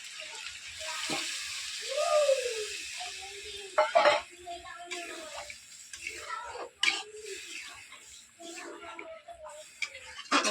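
Water poured into a pan of frying minced chicken brings a hissing sizzle, with stirring clatter and sharp pan knocks scattered through, and someone talking over it now and then.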